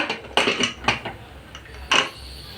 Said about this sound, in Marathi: प्रथम आपण त्याच्यावर झाकण देऊया कुकरवर आम उकळी आलेली आहे झाकण देऊया